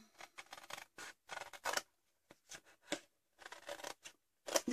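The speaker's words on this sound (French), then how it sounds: "Et on coupe." Scissors cut paper for a gift envelope in a series of short, crisp snips and rustling strokes separated by silent pauses, close and fairly quiet.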